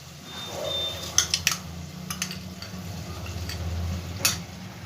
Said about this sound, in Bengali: এবার গুলে রাখা গুঁড়ো মশলাগুলো আমি সব এর মধ্যে দিয়ে দেবো